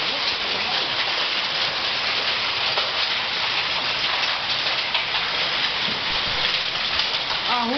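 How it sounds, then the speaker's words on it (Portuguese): Dense, steady pattering of hail pounding a street in Ribeirão das Neves, a continuous loud hiss with scattered harder hits and a faint voice near the end. "Chuva de granizo"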